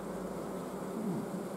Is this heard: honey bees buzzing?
yes